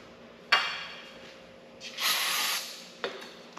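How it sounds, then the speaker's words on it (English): Brake cleaner sprayed from an aerosol can while old RTV sealant is cleaned off a part: a sharp hiss at the start, a longer steady spray in the middle and another short burst near the end, fairly close. "Brake cleaner."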